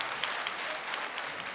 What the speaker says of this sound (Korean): 우리 다시 한번 집사님께 박수해 주시면 감사하겠습니다.